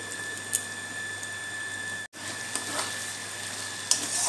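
Shahi paneer gravy with sugar and soaked raisins sizzles steadily in a pan as it is stirred, a constant close frying hiss broken by a few soft scraping strokes.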